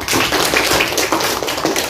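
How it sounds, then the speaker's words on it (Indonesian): Classroom of sixth-grade pupils clapping for a student who answered correctly, a loud, dense burst of hand claps filling the short moment without talk. "Tepuk tangan buat Dano."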